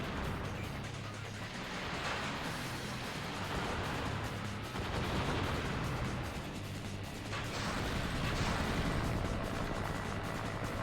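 Gunfire striking Ryu in the Ninja Gaiden Black video game, a dense, loud, continuous barrage of rattling shots and impacts with clattering mechanical noise throughout.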